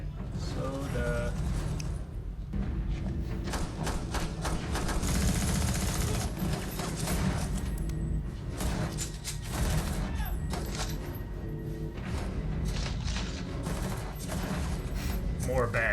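Rapid gunfire from bag guns in a Better Call Saul scene crackles in dense, continuous bursts with mechanical clatter, moderately loud, mixed with voices talking.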